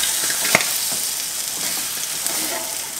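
Steady, bright sizzling of small potato patties, rösti-style, frying in oil in a small pan, close and continuous, with a faint utensil tap near the start and no voices.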